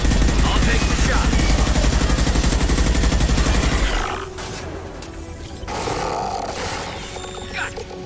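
Gunfire in Mass Effect: Legendary Edition, a loud, continuous rapid-fire burst lasting about four seconds, then dropping to a quieter, rumbling background with a few softer bumps.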